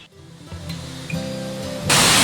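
Water plunging from a high cliff at Paleshwar waterfall makes a broad, steady roar that swells partway through and then surges into a loud, full-band rush near the end.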